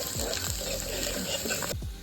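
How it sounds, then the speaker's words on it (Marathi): Water splashes into a chicken kebab curry of black masala and fried onion, cooked over a wood-fired chulha on a terrace: a steady close pour lasting under two seconds, then cutting off. "आणि थोडंसं पाणी टाकायचं"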